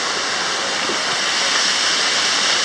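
The Sticky Waterfalls in the jungle give a loud, steady hiss of falling water, close by and unbroken throughout, with no voices.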